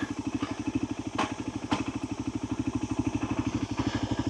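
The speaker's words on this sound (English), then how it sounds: "So let's just stop the bike here now." Voge 300 Rally motorcycle at a stop after off-road riding in Spain, its engine idling close by with a steady, even putter and a couple of brief clunks, no talk.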